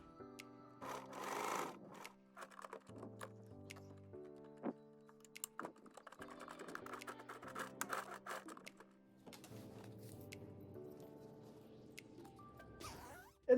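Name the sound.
sewing machine stitching a zipper into a jacket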